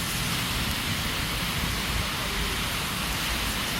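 Heavy rain pouring on a forest trail beside a mountain valley stream, a dense, constant, loud hiss with no breaks, filling the whole scene.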